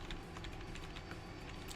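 Close, rapid computer keyboard typing with dense, continuous key clicks during a Final Fantasy VII speedrun played on keyboard, steady and fairly loud over a constant background hum.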